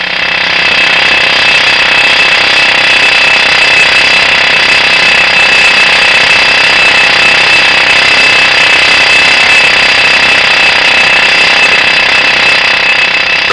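A vibration test machine shakes a plain bolt fitted with a lock washer, giving a loud, constant, harsh buzzing drone with no break or change throughout.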